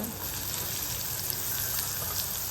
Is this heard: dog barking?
no